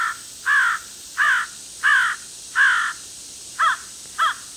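Crow calls played loud from a Prey Master electronic caller during crow hunting: seven harsh caws in a steady rhythm, the last two shorter and quicker, standing alone with no talk.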